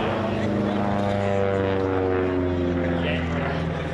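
F-2 Wildcat propeller warbird at an air show, a steady droning engine and propeller hum that holds at a constant, moderate level throughout.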